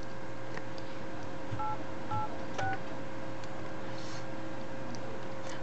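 Keypad tones sound from the dialer of an HTC Android phone running a CyanogenMod-based ROM: three short beeps in quick succession, close and clear over a steady background hum.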